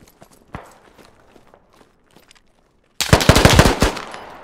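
Quiet, sparse footsteps and distant clicks give way to a sudden loud burst of rapid automatic gunfire in Squad, a dense rattle of shots that continues to the end.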